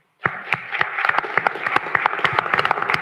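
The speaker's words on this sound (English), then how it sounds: "you all can give a round of applause for Sam." Round of applause from the audience at a city council meeting, starting abruptly and continuing as a steady patter of close, distinct claps from a modest crowd.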